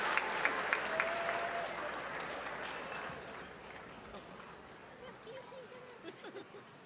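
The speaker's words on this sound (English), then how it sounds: "another round of applause" A gathering applauds with steady clapping that gradually softens, with voices talking over it toward the end.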